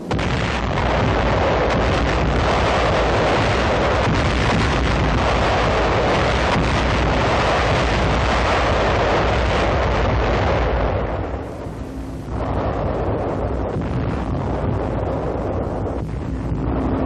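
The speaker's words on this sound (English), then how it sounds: "The 18-day pre-invasion softening up of the rich oil area is followed by a bombardment from the U.S. 7th Fleet" Naval bombardment by the U.S. 7th Fleet with Australian and Netherlands navies in 1945, a continuous loud roar of explosions and blasts, with a brief dip before the rumble resumes.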